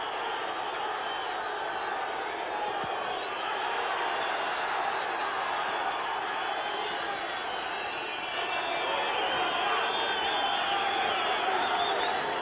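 A boxing arena crowd in Albuquerque roars steadily and loudly throughout a WBO super flyweight title bout featuring Johnny Tapia, the broad wash of noise rising slightly toward the end.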